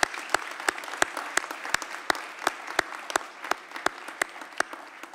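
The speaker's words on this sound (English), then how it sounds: "Can we give another round of applause to our budget leaders panel for their time?" A few people clap for a budget panel after an analyst session, sparse and distinct individual claps in a quiet room, fairly close and moderately loud.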